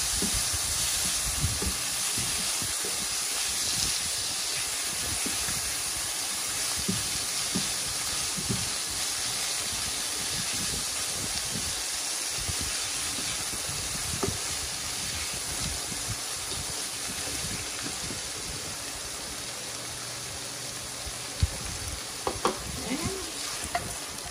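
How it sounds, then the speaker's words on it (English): Frozen green peas sizzle and hiss steadily in a hot stir-fry pan as they are tossed with the other ingredients of a spicy Asian keto dish, with occasional scraping clatter and no talking. "I got some frozen green peas that I'm going to throw in with that. And we're just tossing until they're warm."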